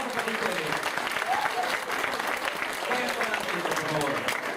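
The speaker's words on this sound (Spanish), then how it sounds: "Un fuerte aplauso para ustedes." An audience gives a loud round of applause, steady dense clapping filling the room from start to finish with a voice faintly mixed in.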